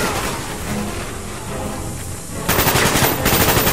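Automatic gunfire from a Call of Duty Black Ops campaign mission, a steady loud rattle of rapid shots that intensifies into denser, harder bursts partway through, with no talking.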